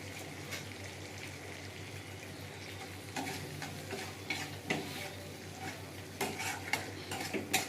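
A spice paste with yogurt fries in a pan, making a low bubbling sizzle broken by frequent stirring scrapes and spoon knocks that grow busier toward the end; no one speaks.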